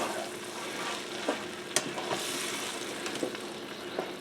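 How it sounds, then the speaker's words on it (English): A fairly juicy tomato sizzles as it deglazes a pan of fried cabbage and sausage, a steady frying crackle broken by a few sharp clicks and scrapes of stirring. "see how that kind of just deglazes that bottom of that pan"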